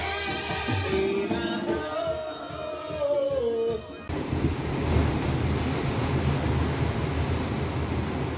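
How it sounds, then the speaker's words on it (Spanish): Sea waves washing onto the beach at Mazatlan under a sunset, a steady loud roar of surf with wind noise buffeting the microphone; faint tonal sounds in the first few seconds before the broad wash takes over. "Vean qué precioso se oye las olas del mar."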